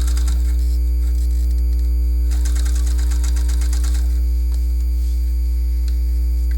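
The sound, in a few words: sewing machine stitching a stretch woven yoga pant seam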